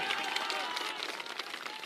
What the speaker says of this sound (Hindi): अब ताली बजा लो, अब बजा लो ताली,